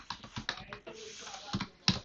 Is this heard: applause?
no